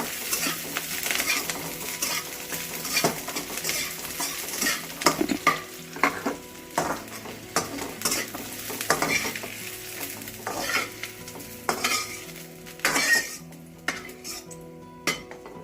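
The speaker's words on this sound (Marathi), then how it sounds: "त्याच्यात आपल्याला लसूण टाकायचं आहे आणि हे अद्रक टाकायचं आहे आणि त्याला पण थोडं फ्राय करून घ्यायचं आहे।" Garlic and ginger fry in a pan with a continuous sizzle, while a spoon stirs and clatters busily against the metal. No one speaks.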